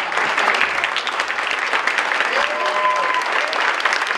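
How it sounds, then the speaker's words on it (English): Audience at a military tribute event applauds the Stockdale family, a sustained, dense round of clapping from a crowd. "Let's give them a big round of applause"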